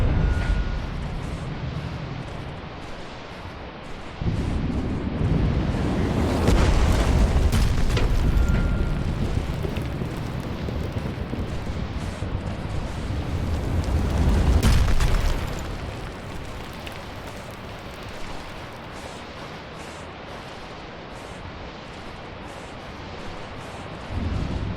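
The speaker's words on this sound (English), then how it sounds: "Where do the mortars even fire from?" Heavy mortar explosions in the video game Lethal Company, two big deep booms with rumbling tails rising from a low ambient drone, fairly close and loud.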